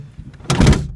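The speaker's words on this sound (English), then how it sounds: "shut the door." The door of a Dodge Neon is shut once, a close, heavy thunk with a brief rattle.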